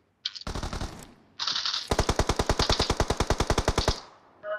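Automatic weapon fire in the PUBG Mobile shooter game: a short burst, a pause, then a long, loud rapid string of evenly spaced shots, with a brief sharp sound at the end.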